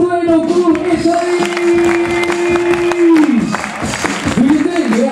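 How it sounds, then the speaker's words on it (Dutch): A crowd at a Dutch breakdance championship kids' battle claps and cheers, with a loud sustained shout or holding voice riding over the steady, dense applause throughout. "Mag ik alsjeblieft een eerste applaus?"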